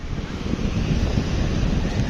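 Rough, choppy sea surf churns and splashes close by at low tide, mixed with buffeting wind noise on the microphone.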